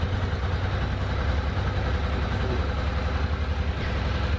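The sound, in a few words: motorcycle engine chugging on one cylinder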